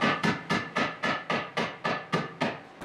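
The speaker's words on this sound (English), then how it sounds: "Fit the lower control arm in the knuckle and hammer it in" Sharp, ringing hammer blows land about ten times in a steady, quick rhythm, driving a car's lower control arm into the steering knuckle during a CV axle replacement, each strike loud and close with a short decay.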